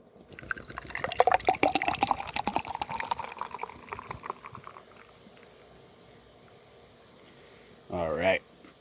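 Beer poured into a glass, a loud frothy glugging splash for about four seconds that fades into a soft fizz, then a brief burst of nearby talk.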